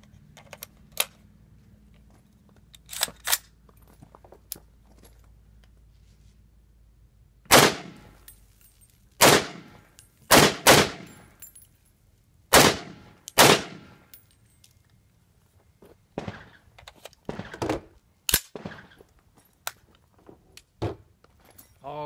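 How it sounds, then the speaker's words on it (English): A Daniel Defense DDM4 PDW rifle in 300 Blackout fires supersonic rounds, several sharp loud shots spaced a second or two apart, with quieter handling clicks in between. "Gonna shoot 5 rounds headshots."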